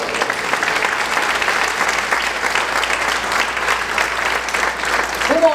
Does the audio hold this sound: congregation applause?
yes